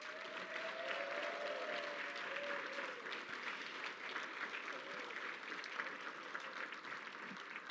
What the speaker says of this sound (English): Maybe one more round of applause to our students.